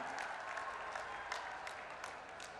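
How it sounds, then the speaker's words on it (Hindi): Audience applause greeting India's Home Minister Amit Shah at a cooperative movement gathering, a steady, distant wash of clapping that fills the short stretch evenly with no voices on top. "मैं ताली बजाकर सबसे अभिवादन करने के लिए आग्रह करता हूं"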